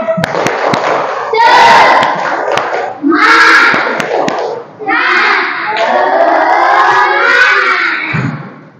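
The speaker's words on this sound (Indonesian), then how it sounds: "Tepuk semangat." A primary school class of fourth graders in an Indonesian Islamic studies lesson performs a spirit clap chant, children shouting rhythmic syllables in unison punctuated by sharp hand claps, loud and close, in several bursts.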